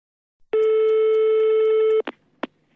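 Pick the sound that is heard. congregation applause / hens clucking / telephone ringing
telephone ringing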